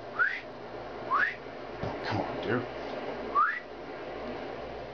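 A person whistles several short, rising notes with pauses between them, while someone speaks briefly under a soft background hum.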